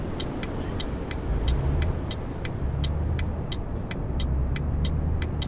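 A truck engine drones steadily while driving in Euro Truck Simulator 2, a continuous low rumble with a regular high ticking pulse, no speech.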